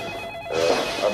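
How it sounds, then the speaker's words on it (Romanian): A telephone rings in an office, a single bright ring rising out of quiet room tone, with no one speaking over it. "Stai că sună cineva"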